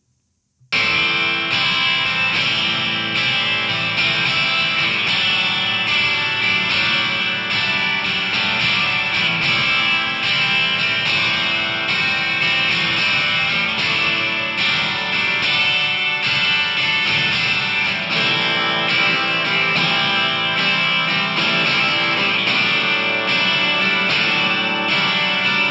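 A distorted electric guitar track runs through eaReckon Analog87 effect plugins, a dense, steady, saturated wall of sound that starts abruptly and plays continuously at full level with no talk.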